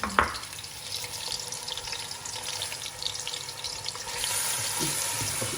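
Lemongrass drops into oil that is not yet fully hot, giving a soft, steady frying hiss with light crackles, fairly quiet and close, swelling slightly toward the end.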